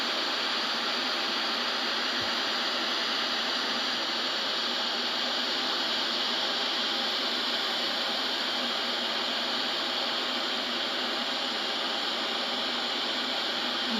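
A waterfall rushes in a steady, loud, unbroken hiss of falling water that holds constant throughout, with no voices.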